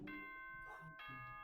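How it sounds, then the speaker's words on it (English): Two-tone doorbell chime ringing clearly and alone, a bright ding-dong pattern repeated within about a second and a half. "That chime."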